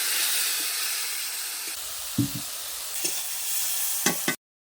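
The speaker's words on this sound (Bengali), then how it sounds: "আমি এখানে অল্প করে জল দিয়ে দিচ্ছি যাতে টমেটোগুলো গলে যায়।" A tomato curry for a Bengali fish dish, spiced with turmeric and chili powder, simmers and sizzles in a pan after water is added, with a steady close hiss and a few soft spoon clinks.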